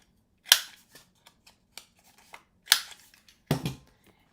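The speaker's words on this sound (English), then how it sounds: "now you want to round the edge on just one side of the paper" Paper being trimmed with a small corner-rounding punch for a box template: a few sharp clicks and snips with quiet handling in between, close and dry, no talking.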